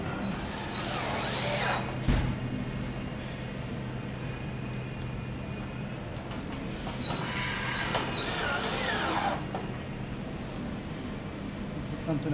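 A power drill drives a number 8 three-quarter-inch screw into an aluminum AlumaVent louver assembly, with two sustained whirring bursts and a short sharp knock between them, fairly close over a steady background.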